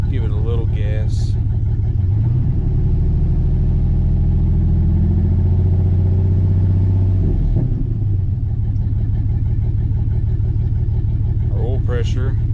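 A 2005 Chevy engine with a freshly changed air filter idles, then revs up for several seconds around mid-clip and drops back to a steady idle, loud and close with a constant low rumble.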